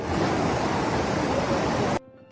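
A flooded river in Mindanao rushes with a dense, steady roar of churning water, loud and constant, then cuts off abruptly near the end.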